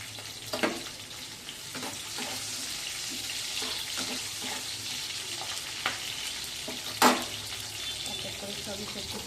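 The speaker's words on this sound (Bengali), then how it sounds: "এটার মধ্যে আর একটু তেল দিয়ে দেবো, দিয়ে এবার সবজিগুলো দিয়ে দেবো" Vegetables fry in oil in a pan, giving a steady, dense sizzle with scattered clicks and taps from stirring and a few sharper clatters, all close by with no talking.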